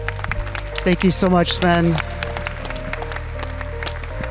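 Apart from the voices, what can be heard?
audience applause at XPrize Avatar award event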